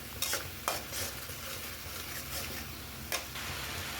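Ground spice paste with cumin being stir-fried in a pan, with a soft, constant sizzle broken by a few sharp spatula scrapes and clicks, close by and fairly quiet.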